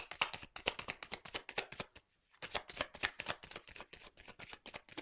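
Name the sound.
shuffling and drawing tarot cards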